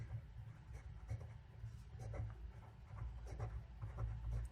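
Marker or chalk scraping on a board during a lecture on database attributes, a steady rubbing stroke texture over low room hum, close and fairly quiet, with no talking.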